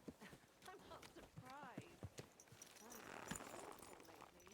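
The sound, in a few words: horse hooves clip-clopping in Kingdom Come 2 video game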